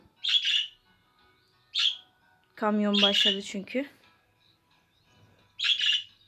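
A pet bird squawks in short harsh bursts, three loud calls spaced apart, with a person speaking briefly in between.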